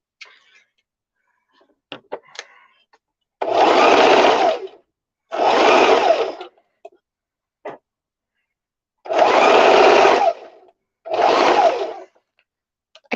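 A sewing machine stitches a headbow in four distinct bursts of a second or so each, loud and close, with short quiet gaps and faint handling clicks between runs.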